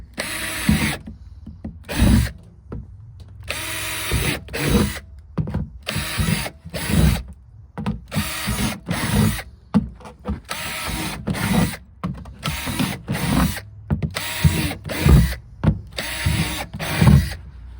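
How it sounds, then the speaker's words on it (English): A power drill whirs in repeated short bursts separated by brief pauses, loud and close, starting and stopping over and over, drilling drainage holes in the bottom of a raised garden bed. "Just drill you some holes in the bottom so you can have some proper drainage"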